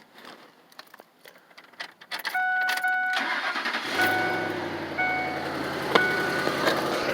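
A 2006 Ford F-150 with a small hole in a welded exhaust cranks over and starts, then settles into a steady, close idle with a faint exhaust ticking over the low engine hum.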